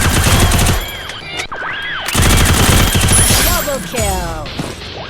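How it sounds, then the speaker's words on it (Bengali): Gunfire rings out in the Garena Free Fire video game as several sharp, loud bursts, separated by short gaps and mixed with voices. "চালা গুলি চালাও"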